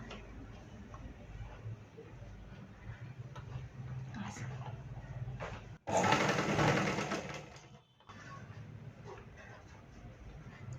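Sewing machine stitching stacked fabric strips for blouse piping, a steady mechanical whir running under quiet talk, with a louder, denser burst of stitching midway before it drops briefly and resumes.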